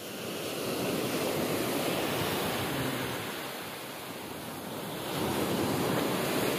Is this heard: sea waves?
yes